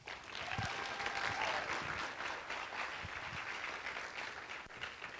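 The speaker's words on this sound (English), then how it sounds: "please give him a big round of applause" An audience at the ISOJ 2022 journalism conference welcome session breaks into a big round of applause, a dense, steady wash of many hands clapping that holds at full strength for several seconds.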